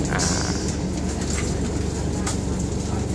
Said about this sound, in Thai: วันนี้ผมนั่งรถโดยสาพิเศษขบวนที่7นะครับกรุงเทพเชียงใหม่